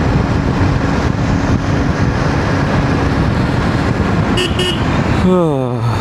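Road traffic rumbles steadily, with a couple of short car horn toots near the end and a longer horn whose pitch falls away as it passes. A voice is heard over the noise.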